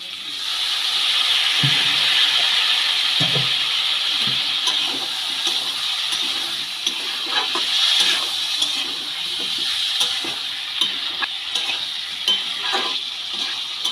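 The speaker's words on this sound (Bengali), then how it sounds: "সামান্য একটু জল দিয়ে দেবো যাতে মশলাটা কড়াতে লেগে না যায়" Jackfruit and spices stirred in a pan, water added, for an echor chingri curry: a steady hiss of cooking liquid, with scraping stirs and clinks of a spoon against the pan running through, no voices.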